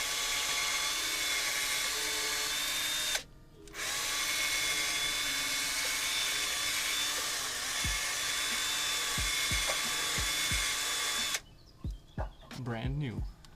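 A power drill spins a suspension bolt against wire mesh to scrub off rust, a loud steady high whine with a brief stop, then knocks and clatter as it stops, with a voice speaking near the end.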